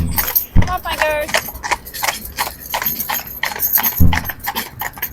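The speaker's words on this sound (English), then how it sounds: "And these horses can march on." Two Friesian mares, a mother and daughter, clip-clop along a country lane with a steady close hoof rhythm, a voice talking over the hooves.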